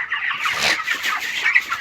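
Chickens and a rooster cluck steadily up close, a dense, continuous run of overlapping calls with no talking.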